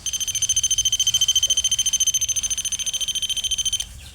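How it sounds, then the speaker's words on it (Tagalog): Motion sensor alarm blaring a rapid, steady pulsing electronic beep, loud and close, repeating for several seconds before cutting off abruptly. "ito po ay motion alarm only. Motion sensor alarm."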